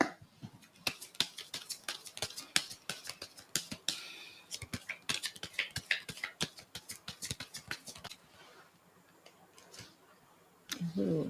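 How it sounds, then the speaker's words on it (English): Tarot cards are shuffled close up in a steady run of crisp ticking riffles and taps lasting several seconds, then a brief pause before a soft sound at the end. "So I'm going to shuffle now and I will be back."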